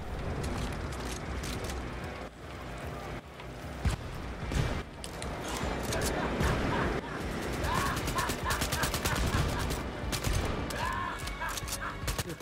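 Dense, sustained gunfire and fusillade bursts from the Wolfenstein: Youngblood shooter game, loud and continuous across the clip with mechanical clatter and game effects, voices talking over it.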